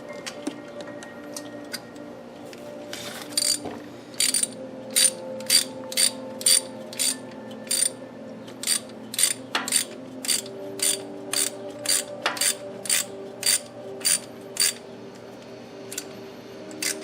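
Ratchet tightening a spark plug into the aluminum cylinder head of a Ford Mustang 4.0L V6, a steady run of close, sharp clicks in quick rhythmic bursts over a faint background hum.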